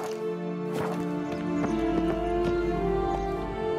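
Horse hooves in The Witcher 3 video game, steady clip-clop footfalls over a sustained tonal music or ambience bed, moderately close and without speech.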